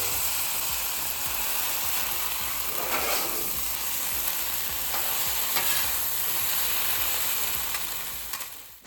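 Bok choy sizzles on a hot Pit Boss outdoor flat-top griddle, a dense, steady crackling hiss with occasional spatula scrapes, loud and close, with no speech.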